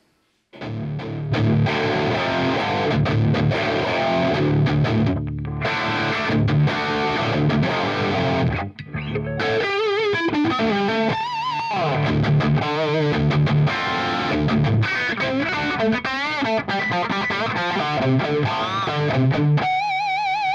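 Electric guitar played through an amp modeler using full virtual tube-amp overdrive, loud distorted chords and riffs with a short pause near the middle, then sustained bends and melodic lines.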